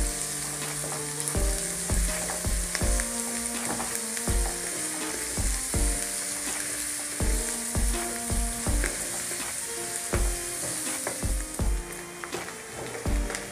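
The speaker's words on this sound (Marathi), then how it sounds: "आता फास्ट गॅसवर ना कांदा भाजून घेऊ आपण." Chopped onion fries steadily on a high gas flame, with a constant loud sizzle and rhythmic scraping and clacking of a spatula stirring against the pan, heard up close with no talking.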